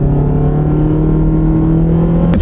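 A car's CVT four-cylinder engine drones steadily at close range while accelerating, a low motorboat-like hum holding a constant pitch throughout with no talking.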